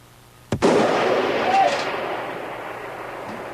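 One sniper rifle shot fired at a target, a sharp loud crack followed by a long rumbling echo that slowly decays over the open range.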